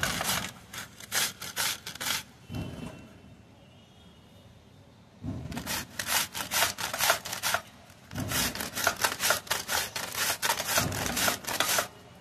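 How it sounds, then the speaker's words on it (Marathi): Cucumber being grated by hand on a metal grater, rapid rhythmic rasping strokes in close, loud bursts separated by brief pauses. "ही काकडी किसून घ्यायची."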